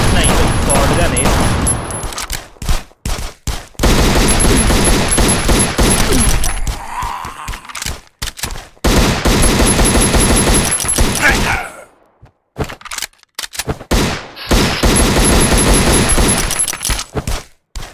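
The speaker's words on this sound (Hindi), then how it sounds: "भाई बंदे ने शॉटगन निकाल दी दोबारा से" Shotgun fire in the mobile survival game Last Island of Survival comes in loud, dense bursts of rapid shots, broken by short pauses and near-silent gaps.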